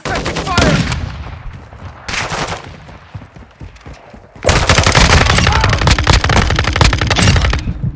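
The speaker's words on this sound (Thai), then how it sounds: "ยิงมาจากไหนวะ" Gunfire from the Call of Duty Warzone 2.0 video game: loud bursts of automatic fire, an early cluster, a short burst near two seconds, then a sustained rapid barrage over the last half, with faint game voice in the gaps.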